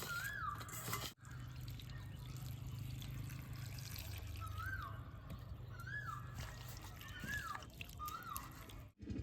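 Water trickling and pouring over banana stem fibre as it is rinsed in a kitchen, a steady close wash of liquid with brief slosh and drip sounds, no talk.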